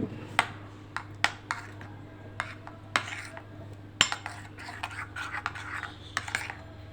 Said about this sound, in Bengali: এইভাবে মিক্স করে আমি সস তৈরি করে নিলাম